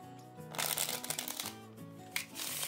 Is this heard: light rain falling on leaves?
no